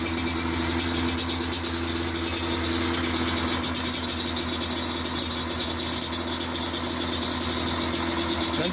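A 2015 Yamaha Banshee 350 two-stroke quad engine idles steadily and close up, a continuous buzzing drone with a light rattling edge that holds unchanged throughout.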